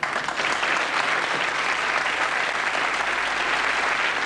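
An audience gives a sustained round of applause, with dense, even clapping that stays loud and steady throughout and no talking over it.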